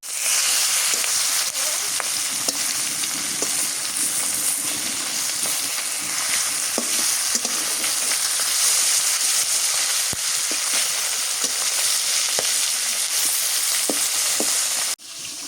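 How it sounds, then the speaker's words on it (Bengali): Fish fry in a pan with a loud, continuous hiss and crackle that goes on without a break and stops abruptly near the end. "মাছগুলো ভাজা হয়েছে নামাই"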